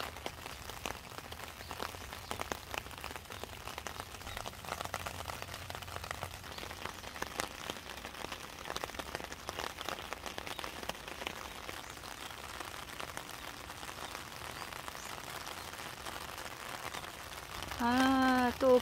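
Rain falls steadily in a garden, a soft continuous patter of drops on leaves and surfaces, even and moderately quiet throughout, with a slight swell at the very end.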